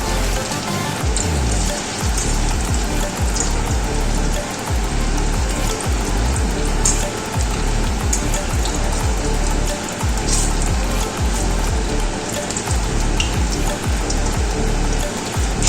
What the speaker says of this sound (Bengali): এক পিঠ অনেকটাই ভাজা হয়েছে।